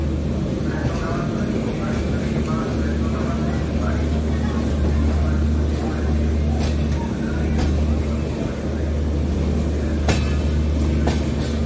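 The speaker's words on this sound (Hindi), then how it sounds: "यह अभी अभी लगी है पूना रेलवे स्टेशन पे, तो थोड़ी देर बाद रवाना होगी यहाँ से।" The Jhelum Express stands at Pune railway station, a steady low engine idle and hum filling the platform with faint clanks and station bustle around it, loud and continuous throughout.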